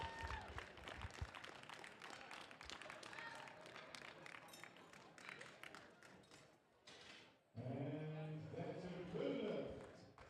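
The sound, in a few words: audience applause at powerlifting competition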